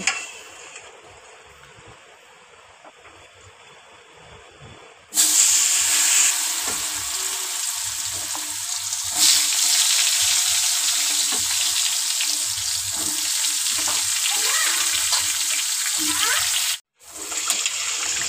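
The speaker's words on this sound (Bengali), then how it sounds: "এবার কিন্তু আমি ভেজে নেব" Pointed gourd (potol) slices coated in salt, turmeric and chili powder fry in hot oil with a steady, loud sizzle that begins abruptly and holds continuously, with occasional stirring and faint kitchen sounds underneath.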